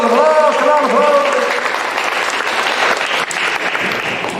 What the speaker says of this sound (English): Let's give him applause, come on, applause.